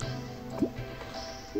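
Water scooped into a bucket in the game Terraria, a short liquid splash and drip followed by a brief bubbly fill sound, fairly quiet over a steady game background.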